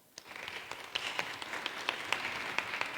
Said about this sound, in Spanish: Un aplauso para usted, por favor, Ena